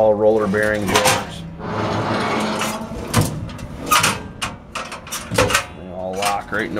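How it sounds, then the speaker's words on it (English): Roller bearing drawers in a storage box on an International 4900 truck slide open and shut several times, with rolling rattles and sharp metallic clunks close by, mixed with someone talking. "All roller bearing drawers."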